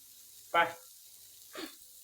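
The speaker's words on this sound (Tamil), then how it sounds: "இன்னைக்கு சண்டே ஸ்பெஷல் எங்கள் வீட்டில் மீன் வறுவல் சுட சுட சும்மா சூப்பராக ரெடி ஆகினே இருக்குது" Fish frying in a pan for a homemade Sunday fish fry, heard as two short bursts of sizzling about a second apart, the first louder and the second softer, with near silence between.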